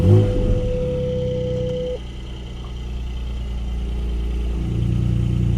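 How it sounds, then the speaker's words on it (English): A Porsche 718 Cayman GTS 4.0 manual with its sports exhaust open starts up: a brief starter whine, then a loud flat-six settling into a steady low idle with a blip of revs near the end. "I'm going to start this car up because it does sound absolutely epic."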